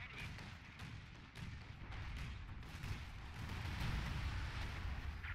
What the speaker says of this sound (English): moving up his Panzerwerfer to barrage the British eastern positions